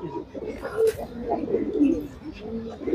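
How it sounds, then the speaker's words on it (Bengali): Pigeons coo softly in a loft, low throaty calls rising and falling in a close, continuous murmur with a few overlapping voices. "তো ওর বাচ্চা কবুতরটি আমরা একটু দেখি"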